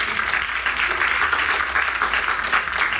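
An audience applauds after a poetry reading at an outdoor evening event beneath a bell tower, steady clapping from a modest crowd that holds an even level for the whole stretch with no talking.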